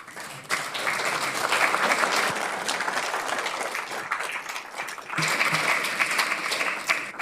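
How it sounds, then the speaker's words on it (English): Audience clapping at a regional council meeting, a sustained burst of applause from the public gallery that eases briefly then surges again, fairly close and filling the room. "Again, I'm going to caution you, please stop clapping."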